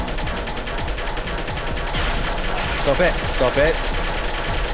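Rapid bursts of turret gunfire from Portal 2, steady and fairly loud through the clip, with a voice speaking briefly over the shooting.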